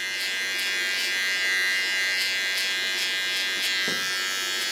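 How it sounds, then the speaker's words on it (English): An electric hair clipper trims a woman's short feminine haircut, giving a steady close buzz with slight shifts in pitch as it moves through the hair. No one speaks. "This you do with a clipper."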